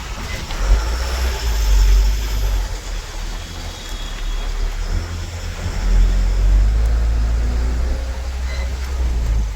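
A Dost goods vehicle rolls forward with a steady low engine rumble and road noise from inside the cab, loud and continuous.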